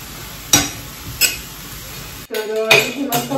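Salted wild vegetable (chaicha mohar) is stirred in a hot pan, giving a soft sizzle broken by several sharp scrapes and clinks of the spoon against the pan, close and fairly loud.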